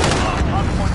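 Continuous gunfire in the Call of Duty Modern Warfare (2019) multiplayer game, a dense, loud barrage of shots and booms filling the whole second with no pause.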